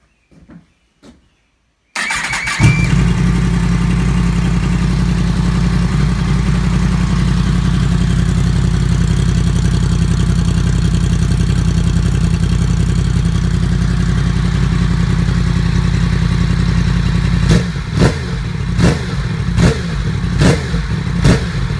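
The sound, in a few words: Yamaha FZ-10 motorcycle with modified stock exhaust, starting and revving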